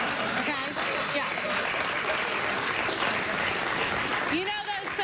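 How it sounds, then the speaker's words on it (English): A late-night talk show studio audience claps in a sustained wave of applause while voices talk over it. "You're clapping now"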